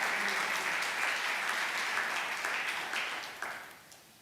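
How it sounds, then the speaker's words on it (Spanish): A church congregation gives loud, dense applause during a worship service, a continuous crackling roar of many hands that fades toward the end. "Dale fuerte ese aplauso al Señor"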